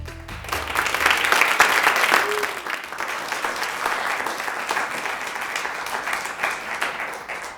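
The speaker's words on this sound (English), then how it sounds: "Thank you all for kindly applauding" An audience applauds a speaker being introduced at a lecture on the Arctic and Alaska, with loud, dense clapping that peaks early and then holds steady before tapering slightly.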